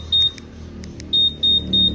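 A Honda or Yamaha motorcycle smart key alarm gives short, shrill electronic beeps up close, one early chirp, then three evenly spaced beeps in quick succession, with faint clicks between them.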